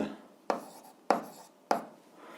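A pen writes on paper while an eighth-grade algebra exercise is worked out. Three quick scratching strokes land about half a second apart, close and fairly quiet, each fading off, with no talking.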